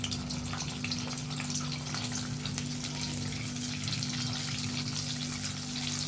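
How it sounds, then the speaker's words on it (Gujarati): Bay leaves, cinnamon pieces and cloves fry in butter in a pan, giving a steady, close sizzle that holds evenly throughout over a low electrical hum. "સૂકા મસાલા એડ કરીશું. 2 તમાલપત્ર, 2 તજના ટુકડા, 4 થી 5 લવિંગ."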